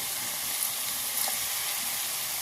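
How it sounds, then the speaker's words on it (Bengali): Spice mixture with water sizzles in a pan for a Bengali aloo dum with green peas, giving a steady close bubbling hiss with a couple of faint scraping touches of the stirring spoon. "দিয়ে আবারও মশলাটা ভালো করে মিশিয়ে নেব।"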